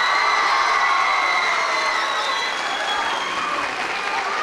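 A crowd applauds the Karatay Fen Lisesi team at a school debate final, steady dense clapping with a few cheers that holds strongly throughout and eases slightly toward the end.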